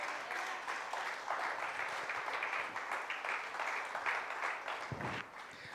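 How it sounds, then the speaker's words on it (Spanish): Applause from a church congregation during a sermon, a dense, steady wash of clapping from many hands that fills the whole stretch and fades slightly at the end. "Dale un aplauso al Señor."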